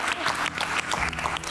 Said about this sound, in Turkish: Buna alkış çalındıracağız.